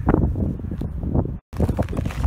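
Wind gusts buffet the microphone in uneven low rumbles during freezing rain in Edmonton, with a short silent gap before the blustering resumes.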